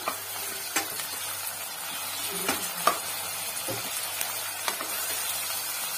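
Chopped tomato frying in a pan for soya chunks biryani, with a steady sizzle and intermittent scraping stirs of a spoon against the pan across six seconds, no voices.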